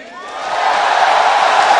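Arena crowd at the League of Legends Season 2 World Finals roaring and cheering, swelling into a loud, sustained wash of voices with whoops on top.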